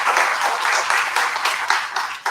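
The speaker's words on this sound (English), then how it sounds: "Give her a big round of applause." An audience at a business literature festival in Bangalore applauds, a dense, steady clapping throughout, fairly close and loud, with no talk over it.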